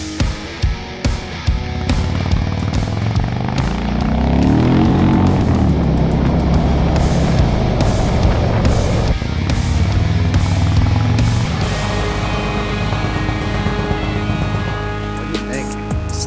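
A Thunderstroke motorcycle fitted with a Stage 1 exhaust rides past, its engine rumble rising loud and sustained, close and dominant for most of the clip.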